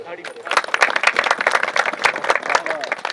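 Audience at a Punjabi-Urdu mushaira claps in a burst of applause, dense and lively, with voices mixed in beneath the clapping.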